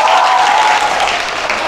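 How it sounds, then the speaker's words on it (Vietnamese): A crowd of high school students at a school in Nghe An, Vietnam, claps in steady applause, loud and continuous throughout, with a faint sustained tone underneath. "Nào cho tặng một tràng pháo tay nào."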